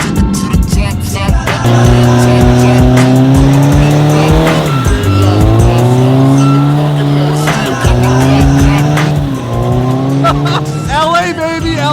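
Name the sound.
car doing donuts, tires squealing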